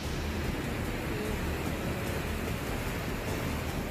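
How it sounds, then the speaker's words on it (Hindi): Swollen Alaknanda river in flood at Chamoli, a steady, dense broadband roar of rushing water, continuous and unbroken throughout with no voices. "चमोली में उफान मारकर बह रही अलकनंदा नदी का ये रूप दिलों में दहशत पैदा कर रहा है।"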